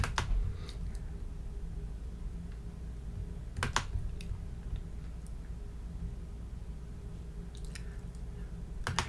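Quiet keystrokes on a computer keyboard in short bursts, a few sharper clicks standing out over a soft background hum, no talking.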